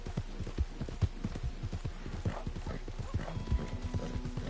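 Horse hooves clip-clop in the Red Dead Redemption video game, a steady, brisk gait of muffled thuds heard close and moderately quiet over a faint ambient hiss.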